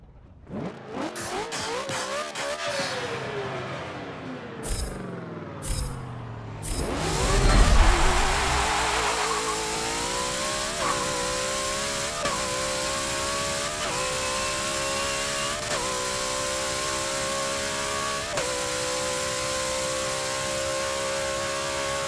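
The Hoonicorn car roars down a drag strip in Forza 7, its engine revving up through repeated gear shifts, each pitch climb cut by a shift, loud and sustained throughout.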